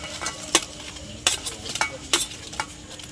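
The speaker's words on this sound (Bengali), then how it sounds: "দইটা আমি ভালো করে ফাটিয়ে নিচ্ছি।" Beating yogurt in a bowl for Bengali dahi vada: a spoon or whisk knocks and scrapes against the bowl in several quick irregular strokes, close and fairly quiet with no talk.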